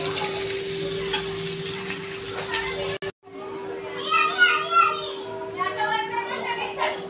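Onion and green chili frying in a pan, a loud continuous sizzle and stirring scrape. Children's voices and talk carry on over it.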